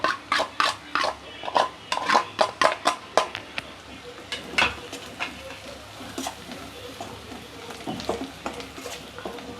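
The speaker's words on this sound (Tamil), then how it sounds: "சிவப்பாகிற வரை வதக்கிடுவோம்." Onions sautéing in a pan with asafoetida, salt and chilli powder, a run of quick rhythmic spoon-scraping strokes over a soft continuous sizzle, then slower stirring as frying continues.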